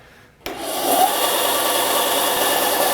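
A bandsaw switched on at a guitar-building workshop, starting abruptly and settling into a loud, steady, close whirring hum.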